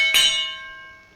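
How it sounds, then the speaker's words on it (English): A single bell stroke closes a wrestling show, ringing out once with a bright clang and a clear tone that fades away slowly. "Ring the bell,"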